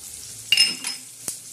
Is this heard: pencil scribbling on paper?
no